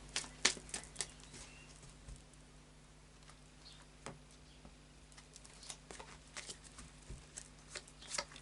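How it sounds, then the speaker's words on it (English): Oracle of Visions cards being shuffled, heard as soft, sparse papery clicks and light taps scattered through a very quiet room, with no talking. "And a final shuffle of the Oracle of Visions."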